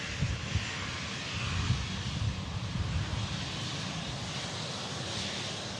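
A TAP Air Portugal airliner rolls along the runway at Manchester Airport, a steady broad engine roar with wind noise, moderately distant and unbroken, no talk.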